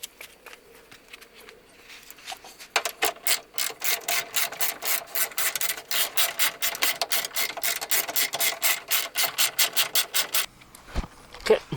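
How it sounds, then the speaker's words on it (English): A rapid, rhythmic rasping drill enlarging metal bolt holes for an S2000 rear diffuser runs steadily for several seconds, starting after a quiet lead-in and cutting off abruptly near the end. "what I'm going to do is just drill it out just a little bit bigger so that it can kind of fit"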